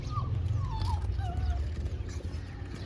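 Three puppies whimpering beside their mother dog at a house, thin high whines rising and falling over a steady low background hum, fairly faint and close.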